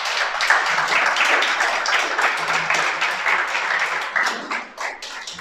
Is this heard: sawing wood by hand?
no